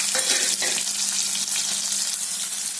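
Chopped onion and green chili frying in hot oil for prawn biryani, a dense, even crackling sizzle close up that carries on unbroken for a few seconds, with no voices.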